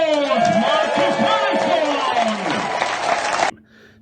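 Applause and cheering for a top goal scorer at a football awards broadcast, with crowd clapping under loud shouted and whooping voices that continue for about three and a half seconds before cutting off abruptly.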